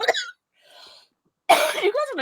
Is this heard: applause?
no